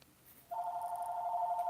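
A phone rings with a steady electronic tone that starts abruptly partway through and holds loud and unbroken to the end, with no talking over it.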